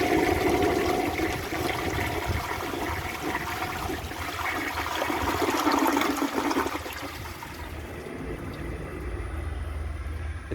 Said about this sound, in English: Now let's give it a flush.